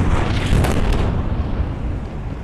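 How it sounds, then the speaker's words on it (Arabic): A loud, sustained boom and rumble as a tower block in the Gaza Strip is struck by an Israeli airstrike, a dense roar that stays steady for a couple of seconds, with no voices. "وقصف المبنى بالكامل."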